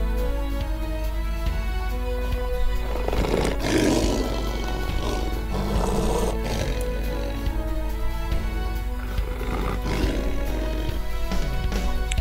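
A toy lion plays a recorded lion roar, a series of loud, rough growling roars that come again and again over several seconds above a constant low hum.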